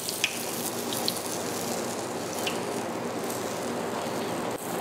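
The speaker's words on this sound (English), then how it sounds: "Catfish fillets only take very short period of time to fry right up." Catfish fillets coated in cornmeal fry in hot oil, giving a steady, fairly loud crackling sizzle that runs unbroken throughout with a few sharper pops.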